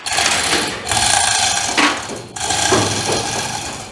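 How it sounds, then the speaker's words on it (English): A hoist lifting a chopped-off roof from a 1951 Chevy truck in a workshop, a loud close mechanical whirring in three runs separated by brief stops, with clanks between. "since I've got no one to give me a helping hand, I'm going to use my hoist"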